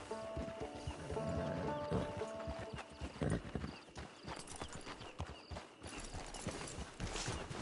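Horse hooves clip-clopping in the Red Dead Redemption 2 video game, a quiet, rhythmic run of repeated hoof strikes with a brief whinny, no speech.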